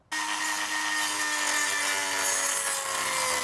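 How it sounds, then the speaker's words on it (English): A small sandpaper grinding disc on a power tool works the parcel shelf of a BMW E34 M5, giving a loud, steady, continuous abrasive whine that starts abruptly and holds for the whole stretch without talk. "I'm going to swap from the cutting disc to a small grinding thing. It's just made out of a sandpaper,"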